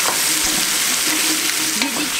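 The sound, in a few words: chopped onions frying in a pan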